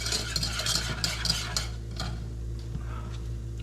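A spoon scrapes steadily around a pan of roux, cooking for Army SOS cream beef, over a low constant hum, with a close, soft rhythmic stirring and faint sizzle.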